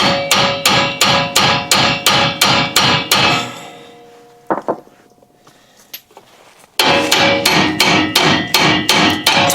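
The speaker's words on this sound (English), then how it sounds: "I'm going to see if I can pound this thing off" A hammer pounds a stuck brake drum off a 1954 Plymouth with a steady series of loud, close metallic blows. The hammering pauses for a few seconds, with a scrape and a clatter in between, then the rhythmic strikes resume.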